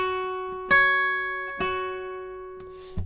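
Clean guitar picking a pre-chorus lick, a few plucked notes ringing out with a steady sustained tone, quiet and alone with no talking.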